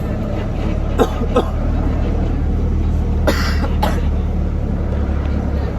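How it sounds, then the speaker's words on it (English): A couple of short coughs, then a louder cough burst a few seconds later, against a constant rumbling engine-like background. "a cough?"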